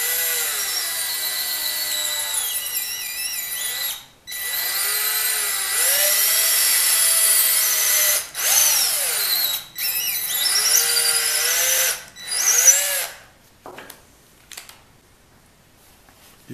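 A long drill bit bores into a small brass organ conductor arm, a loud steady high-pitched whine with warbling tones that cuts out several times, then a few short final bursts and quieter handling noises.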